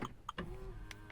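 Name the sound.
Land Rover Freelander central locking locking and unlocking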